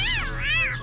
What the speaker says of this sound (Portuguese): De onde saiu esse gato?